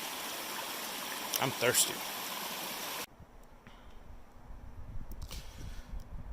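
A mountain stream on a winter hiking trail flows with a steady close rushing wash, with a brief spoken remark over it before the level drops to a quieter trickle.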